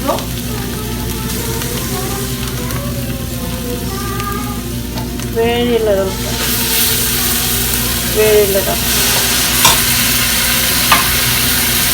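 Dried Bombay duck (loitta shutki) fries in a pan with only a little water, a loud continuous sizzle and hiss broken by repeated stirring scrapes, with a brief spoken word near the start.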